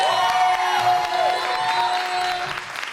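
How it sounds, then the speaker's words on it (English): A crowd at a poetry project showcase claps and cheers, sustained applause with whoops and shouts layered over it, slowly easing toward the end. "keep clapping all the way to the stage"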